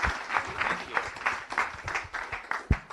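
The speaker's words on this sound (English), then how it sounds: "One more round of applause." Audience applauding at a startup pitch day event, a steady patter of many hands clapping fairly close, with no talking over it.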